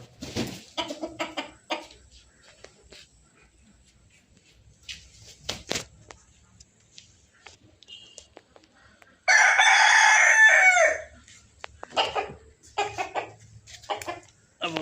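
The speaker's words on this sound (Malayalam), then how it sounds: "നാടൻ കോഴി എന്ന് പറയുന്ന സാധനമാണിത്" A native country rooster with a green tail and short legs crows loudly once, a long rising-and-falling call in the middle, with scattered clucks, shuffling and faint voices before and after.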